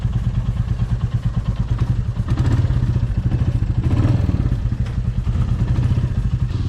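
Motorcycles ride a mountain road near Keylong, with a close, steady engine rumble and clatter carrying through the whole stretch and no talk.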